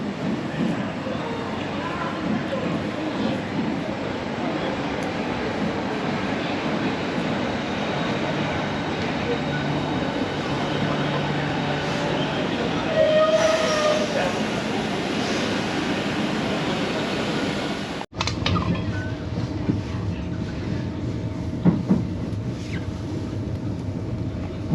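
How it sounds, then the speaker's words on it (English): A Southeastern train at Ramsgate station gives a steady low rumble and hum throughout, with people talking over it and a brief click partway through. "this is the train I'll be heading back home, back to London"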